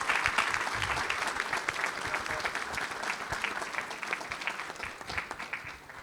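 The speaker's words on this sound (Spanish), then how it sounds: "quiero pedir un aplauso para esas personas" An audience applauds at an international seminar on the Pension 65 non-contributory pension programme, a dense, sustained round of clapping that tapers slightly toward the end.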